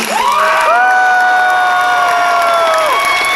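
Convention audience at a Teen Titans Q&A panel with Greg Cipes and Tara Strong cheering loudly, with whoops, high shouts and applause building into a sustained roar that holds for several seconds, a little fading at the end.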